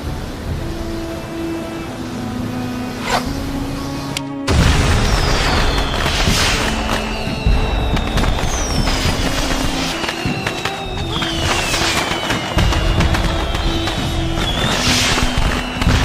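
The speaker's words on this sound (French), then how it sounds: "J'aime les feux d'artifice." Fireworks from the video game Heavenly Sword whistle upward and burst repeatedly over a steady ambient bed, with rising whistles and crackling pops layered densely for several seconds.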